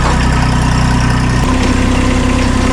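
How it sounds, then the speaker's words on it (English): A diesel tractor engine idles close up, a loud, steady low rumble with an even throb that shifts pitch slightly partway through, with no talking. "We're gonna have to bust the tractor out."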